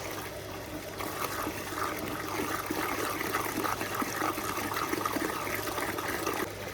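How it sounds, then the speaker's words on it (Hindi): Water poured into a bucket for a bull to drink, a steady close splashing and trickling stream that runs evenly throughout. "अभी पानी डाला जाएगा बाल्टी के अंदर।"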